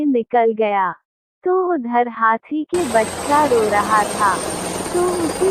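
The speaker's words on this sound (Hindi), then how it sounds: "जंगल एक चिड़ियाघर के मालिक हेलीकॉप्टर लेकर जा रहा था।" Cartoon helicopter flying overhead, a steady whirring drone that starts abruptly midway and continues under a narrator's voice telling a story.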